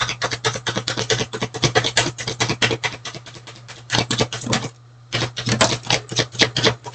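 Tarot cards shuffled and pulled from the deck during a reading, giving a rapid run of dense, crisp riffling clicks and patters up close, with one brief pause, and no talk.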